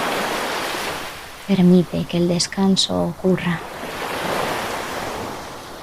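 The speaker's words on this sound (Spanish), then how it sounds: "Y deja que el sonido del mar cuide de ti durante unos minutos más." Ocean waves wash onto the shore in a steady, soft roar of surf, while a calm voice speaks briefly in Spanish over the middle of it.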